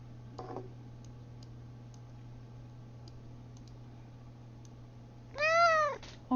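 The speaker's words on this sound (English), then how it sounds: "He just walked right up to me and meowed into the mic." A house cat walks up and lets out one close, loud meow straight into a desk microphone near the end, after a stretch of quiet room hum with faint scattered clicks.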